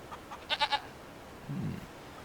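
Goats bleat from a livestock pen in the Farming Simulator 25 video game: a quick run of three close, loud bleats follows two fainter calls, then a lower, muffled bleat. No one speaks.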